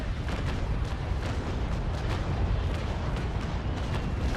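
A ship's cannon broadside fires from a second-rate sailing battleship in the video game Naval Action, making a continuous, heavy rumble of overlapping booms that holds steady throughout.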